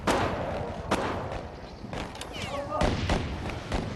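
Gunfire during SAS special forces desert combat comes as a few sharp, scattered shots and thuds. They sound at moderate distance, with shouting and speech mixed in.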